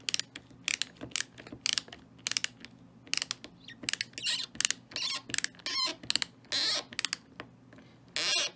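Screws being backed out of a picked Goal V18 lock let out repeated sharp squeals and ratcheting creaks in irregular bursts, close and loud over a low steady hum.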